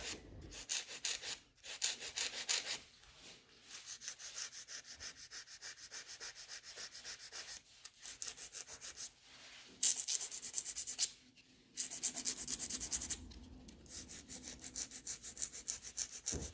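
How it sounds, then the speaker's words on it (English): A gel nail tip being filed into a coffin shape produces rapid, close rasping strokes in bursts separated by short pauses, with no talking. "So I'm filing it into a coffin shape."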